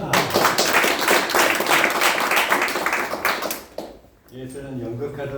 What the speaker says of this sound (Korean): 박수를 격렬하게 해서 분위기 돋굽시다